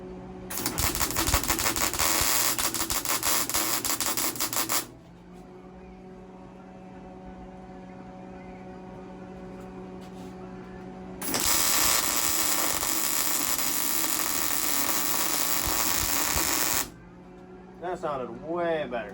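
An old welder cranked to its maximum setting crackles and buzzes in two long loud bursts, each lasting several seconds, separated by a quieter humming pause.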